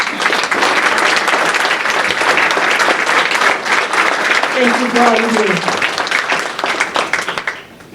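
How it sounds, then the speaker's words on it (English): Sustained audience applause for staff at an elder abuse awareness event, dense and steady for several seconds before fading out, with a voice speaking over the clapping. "Please stand up for a round of applause."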